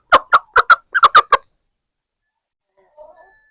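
An Aseel rooster being fed aloe vera gives a quick run of seven loud, close clucks, then goes silent before a faint low murmur.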